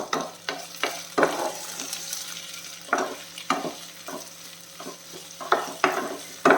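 Raw papaya frying in a pan, stirred with repeated scraping strokes every second or so over a steady close sizzle, with no talking.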